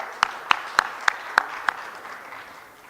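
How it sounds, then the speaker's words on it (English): A small audience at the official launch of an engineering capacity-building programme claps in a brief round of applause: half a dozen sharp, evenly spaced claps over soft scattered clapping that fades out. "Let's give him a round of applause."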